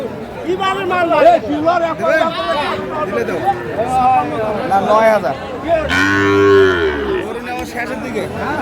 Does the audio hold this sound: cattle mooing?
yes